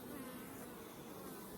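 Honey bees buzzing on a hive frame around a pollen substitute patty, a faint, steady, close swarm drone with no voices.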